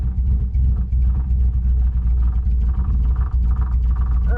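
A 1960 Triumph TR3A engine runs at a steady, low idle after starting, a continuous rumbling burble close to the microphone with no one speaking.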